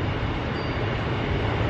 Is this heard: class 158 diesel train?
yes